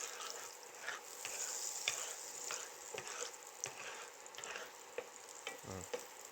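Butter and about two tablespoons of extra virgin olive oil sizzle softly in a pan while being stirred, a steady faint frying hiss broken by light utensil scrapes and taps, with no voices.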